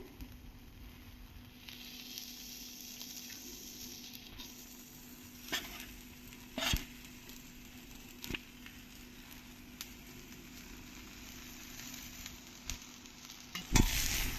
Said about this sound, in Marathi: यात आता मी साबुदाणा घालते